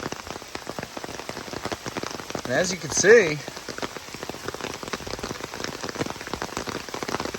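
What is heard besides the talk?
rain falling on a driveway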